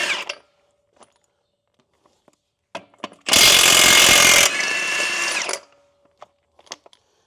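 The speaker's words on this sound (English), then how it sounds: "If you guys have never used one of these 1-inch impacts, you don't know what you're missing" A 1-inch impact wrench hammers loudly in one burst of about a second, then spins down more quietly for about a second. Scattered clicks and small knocks come before and after.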